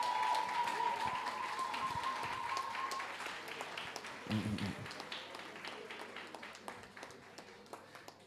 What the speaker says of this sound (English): Keep the applause going for these amazing performers.